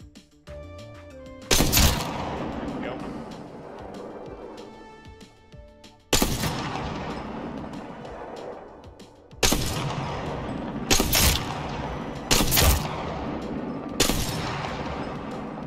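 Sniper rifle shots from Apex Legends, a Longbow or Sentinel fired with a low-power sight, come as six loud, sharp reports spaced a few seconds apart, each followed by a long ringing decay.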